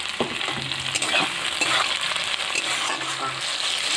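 Onion and chopped tomato fry in hot oil for Bengali chicken dak bungalow, giving a dense, close sizzle with a spatula scraping and stirring through it.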